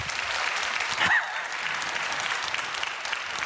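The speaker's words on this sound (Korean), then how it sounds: "박수 한번 쳐주지." A congregation at a church sermon claps in a short, dense burst of applause that carries evenly through the whole moment, moderately loud and fairly close.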